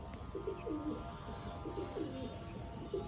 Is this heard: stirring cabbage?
no